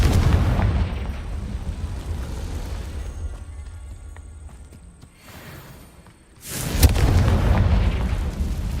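The Confringo explosion spell goes off in Hogwarts Legacy with a loud, booming rumble that slowly fades to a quieter lull before a second sharp blast bursts in and keeps roaring, with no talking.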